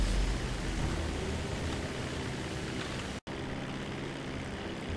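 A propeller aircraft engine in GTA 5 Online drones steadily through a relaxed flight, a broad continuous roar with no voices, cut by a single brief dropout of silence near the end.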